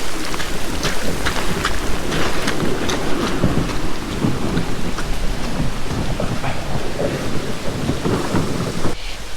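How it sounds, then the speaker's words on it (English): Heavy rain and a thunderstorm lash a river during a fishing trip, a loud, constant downpour with low rumbles of thunder and wind beneath it; no voices. "We knew it was going to rain, but that's pretty bad."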